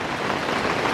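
Heavy rain pouring down in a garden during the rainy season, a dense, loud, unbroken rushing hiss with no voices over it.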